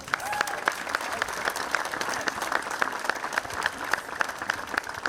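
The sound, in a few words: applause at Alexela Arena opening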